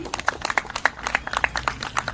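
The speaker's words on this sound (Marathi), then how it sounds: "एकदा जोरदार टाळ्या वाजवा आपल्या स्वतःसाठी" An audience claps loudly for itself at a Shiv Jayanti talk in Marathi, a dense burst of overlapping handclaps that holds steady and fills the room.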